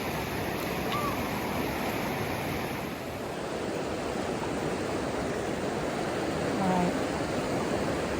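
Vallecito Creek rushes loudly and steadily at a creek crossing, a dense, unbroken roar of fast water close by that fills the whole scene.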